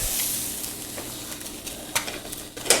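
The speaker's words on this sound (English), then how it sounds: "I'm just gonna flip and break the yolk, unfortunately" A frying egg flipped in a hot pan, a steady close sizzle with a few sharp scrapes and taps of the spatula toward the end.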